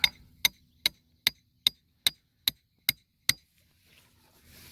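A hammer strikes a metal soil sampling probe nine times in a steady, even rhythm, each blow sharp and close, followed by quiet.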